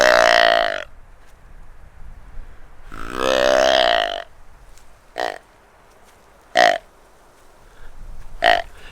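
A hunter's call imitates a buck deer's deep, drawn-out guttural bawl: two long, low groaning blasts followed by three short grunts spaced apart, close and loud against a quiet background.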